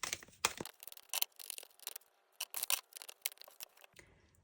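Tarot cards are shuffled by hand, quick crisp riffling and snapping bursts of card stock in short irregular clusters, close and fairly quiet, with no talking.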